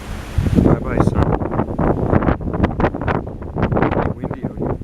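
Strong wind buffets the microphone on a Maui ocean shore at sunset, loud gusty rumbling that lasts the whole time beneath a person's talking.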